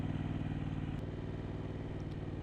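Yamaha MT-07 motorcycle engine held at constant throttle in first gear, a steady low, throbbing drone with a slightly uneven pulse, close and alone with no speech.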